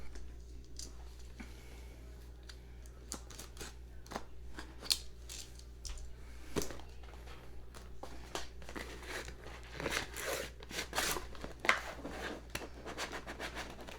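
A subscription box packed to the brim is opened, giving scattered crisp cutting snips, rustling and crinkling of packing and tissue paper, close and moderately quiet with no talking.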